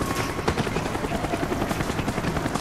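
A helicopter in the Call of Duty Black Ops video game thunders close by with a loud, continuous rotor chop that fills the whole stretch without pause.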